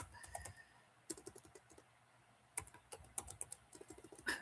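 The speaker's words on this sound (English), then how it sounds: "If I can type right here." Keys tapped on a computer keyboard in quick, uneven bursts while a stock symbol is entered, close and fairly quiet, with no talking.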